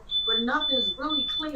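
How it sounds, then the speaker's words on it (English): A personal alarm gives off a steady, high electronic tone that runs throughout, close and clear, beneath someone talking. "Sorry, that's my alarm"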